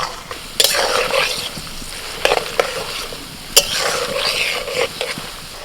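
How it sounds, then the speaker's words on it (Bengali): Half-fried crispy chilli baby corn being fried a second time in hot oil, giving a loud continuous sizzle with a few sharp utensil clicks as pieces are stirred. "এবার এগুলোকে দিয়ে দিচ্ছি এর মধ্যে দিয়ে আবার একটু ভালো করে ভেজে নেবো"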